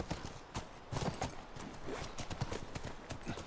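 Horse hooves clip-clop in a steady, fairly quick trotting rhythm in the video game The Last of Us, close but moderately quiet, with no voices over it.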